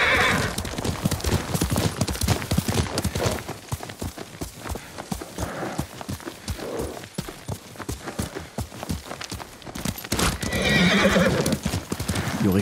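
Horse hooves clip-clopping in a steady run with loud whinnying neighs, from the Ghost of Tsushima video game, continuous and close throughout with a burst of neighing near the end.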